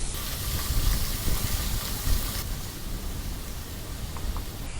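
Chopped onion and tomato fry in a pan, giving a steady, broad sizzling hiss with faint crackles, continuous and fairly close, with no voices.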